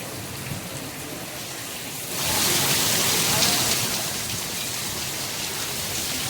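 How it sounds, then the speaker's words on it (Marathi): Heavy rain pours down in Diva, Thane, a dense, steady roar that swells louder after a couple of seconds and stays strong, with no voices. "ज्या ठाण दिव्यामध्ये तर खूपच सार पाऊस चालू आहे"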